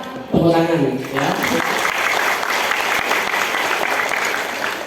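An audience at a business seminar bursts into loud, sustained clapping right after a speaker's amplified voice, the applause dense and even for several seconds.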